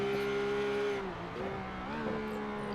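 Ruf supercars racing at Imola in a racing game, engines droning with rising and falling pitch as the cars shift and corner, loud and continuous.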